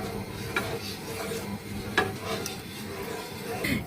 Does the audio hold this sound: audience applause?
no